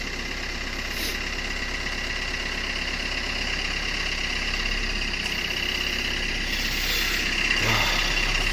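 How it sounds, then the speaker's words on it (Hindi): A Vitara Brezza diesel engine idles shortly after a cold start, a steady close rumble with a faint knocking clatter that runs the whole time, and a few brief higher noises on top. "this is typical diesel engine"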